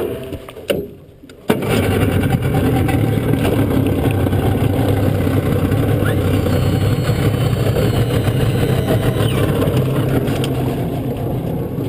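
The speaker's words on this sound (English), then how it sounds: "I'll keep us idled in reverse." A fishing boat's engine idles in reverse while a net is picked, with a steady, loud mid-range drone running continuously after a brief quieter moment at the start.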